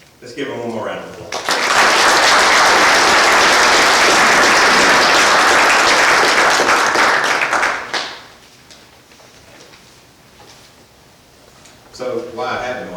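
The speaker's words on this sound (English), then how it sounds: "Let's give him one more round of applause." Audience at an emergency services employee recognition night breaking into loud, sustained applause for about six seconds before it fades, with speech at the start and end.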